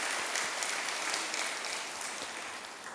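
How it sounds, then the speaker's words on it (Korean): A church congregation at a Sunday worship service applauds steadily, a dense, even wash of many hands clapping that carries on throughout without voices. "영광의 박수를 올려드리겠습니다."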